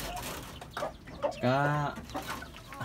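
Chickens cluck on a small farm where chicks are being fed, with one clear drawn-out call in the middle and softer clucks around it while a person talks nearby.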